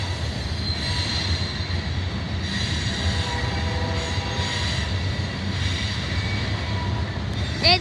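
A loaded coal train rolls past, a steady rumble of heavy wagons with rhythmic wheel clatter and faint metallic squeal, sustained throughout at close range.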